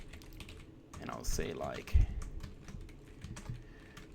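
Computer keyboard keys clatter in quick irregular bursts while someone types code, continuing under a man's speech and getting busier toward the end.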